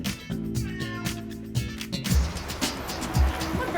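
A pet cat meows several times near a bathroom under renovation, short clear calls over a faint engine hum, with a person speaking briefly in the background.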